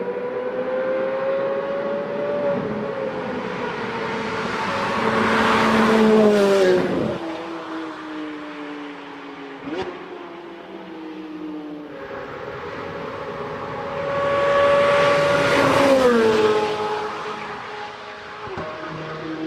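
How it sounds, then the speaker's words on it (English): A 2023 Chevy C8 Corvette Z06 with a flat-plane crank V8 revs twice, each time climbing to a loud, high wail and then dropping back to a steady rumbling idle. "I'll let you guys listen to the glorious Flapping Crank V8 one last time"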